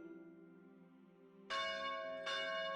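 A church bell rings with two strong, resonant strikes about a second apart, each ringing on, after a lower tolling hum at the start.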